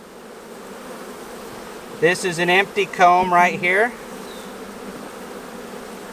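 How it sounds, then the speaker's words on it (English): Honeybees buzz loudly and steadily around an open long hive, the dense drone swelling at close range while a person talks over it. "Get on down in there, bees."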